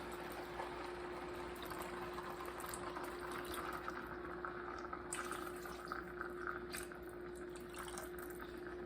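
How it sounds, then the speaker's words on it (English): Water poured steadily into a pan of chicken pieces for paprikash, a continuous close splashing and filling rush lasting the whole stretch under a steady low hum, with no talking. "let's add some water."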